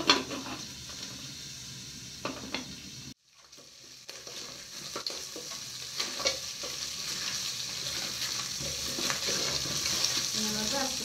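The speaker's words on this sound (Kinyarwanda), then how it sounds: "Nyine inyanya ndazishyiramo zibanze zishye, nizimara gushya nshyiramo aga sauce tomate." Tomatoes fry in a pan with a steady close sizzle while being stirred, with a few clinks of a utensil against the pan. The sizzle cuts out briefly, then returns and grows louder.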